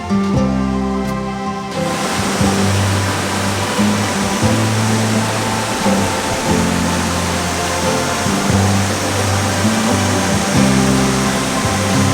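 Water rushing at a dam roars as a loud, dense, unbroken wash of noise, close and steady throughout, with a low droning hum beneath and no voices.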